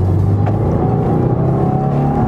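A 2018 Subaru WRX driven hard through corners, its engine droning loud and close as a steady cabin hum with a slight rise in pitch.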